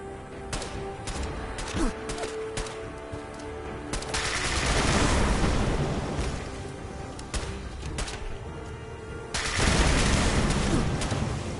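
Video game gunfire crackles in rapid automatic bursts, dense and loud, with heavy sustained volleys that swell and cut off across the stretch and a few single shots in between.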